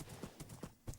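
Horse hooves gallop in a farming video game, a quick, quiet series of clip-clop beats in an uneven rhythm over about a second, with no talking.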